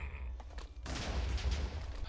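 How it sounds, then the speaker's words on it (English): Rapid bursts of small explosions from a Minecraft Frieren mod, a crackling volley of pops that erupts after a quieter start and keeps rattling densely, close and steady to the end. "they do cause small explosions"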